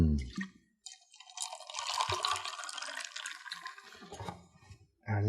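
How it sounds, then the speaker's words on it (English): A splash of soda water poured into a Vodka Collins cocktail, a soft continuous fizzing trickle lasting a few seconds, close and fairly quiet, with a faint clink at the end. "Just like before, a little splash of soda."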